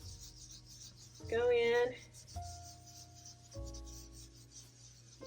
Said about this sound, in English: scrub those little rust spots off